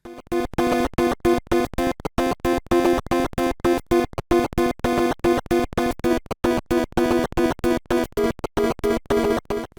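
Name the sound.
NES video game title music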